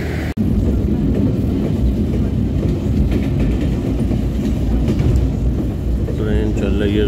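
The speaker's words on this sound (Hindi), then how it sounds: "ट्रेन चल रही है जोरों शोरों से" Passenger train rolling along the rails, a steady loud low rumble with faint wheel clatter throughout, heard from on board.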